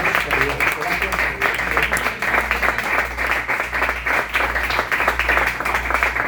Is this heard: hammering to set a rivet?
no